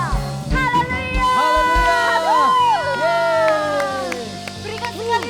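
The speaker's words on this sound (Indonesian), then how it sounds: "Berikan sekali lagi tepuk tangan buat Tuhan Yesus" Congregation at a Sunday youth church service cheering, whooping and shouting in praise of Jesus, a lively, loud crowd swell with raised voices and a strong speaking voice on top.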